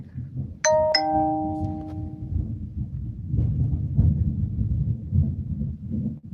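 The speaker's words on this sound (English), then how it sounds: "It must be thundering out there. It's literally a thunderstorm out there." Thunder from an outdoor thunderstorm rolls as a low, sustained rumble after a brief bright chime, swelling and fading over several seconds with no talk.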